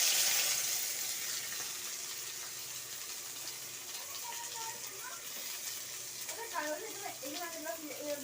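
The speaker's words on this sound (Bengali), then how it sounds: "পেঁয়াজটা একটু সামান্য নুন দিয়ে ভেজে নেব" Onions frying with a pinch of salt in a wok, a steady broadband sizzle running throughout at moderate level, with a voice speaking over it in the latter part.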